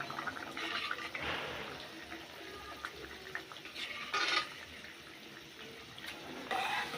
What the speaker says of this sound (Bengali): এখন সিদ্ধ ডাউলগুলো দেওয়া হচ্ছে